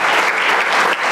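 A church congregation claps during a sermon, a short burst of loud, dense applause from many hands, close and continuous.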